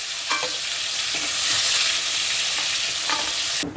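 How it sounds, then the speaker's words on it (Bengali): Prawns stirred while frying in hot oil in a pan: a steady, close sizzle with scraping stirs at irregular intervals, and no talking. "খুব বেশি কিন্তু চিংড়ি মাছ ভাজবো না, হালকা করে শুধু নেড়ে নেব।"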